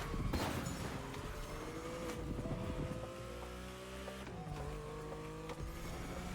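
A Lamborghini's engine drones and shifts pitch as it drives in The Crew Motorfest racing game, with rising revs, a gear change and tire noise, moderately loud and steady without talk.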